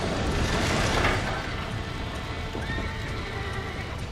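Horses in the Red Dead Redemption western video game whinny and snort over a steady rush of galloping hooves, loud and close, with a sharp neigh early on and continuous clip-clop throughout.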